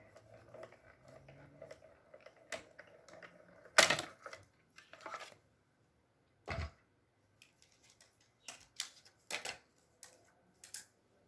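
Paper and die sandwiched between two cutting plates cranked through a manual die-cutting machine for a card project, heard as scattered clunks, creaks and sharp clicks with quiet gaps between them and no talking.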